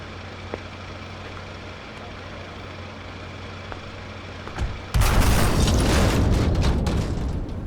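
Shotgun fire in Yakuza Kiwami 2, a sudden loud blast after a stretch of low background rumble and faint clicks, followed by a sustained burst of noisy crashing action.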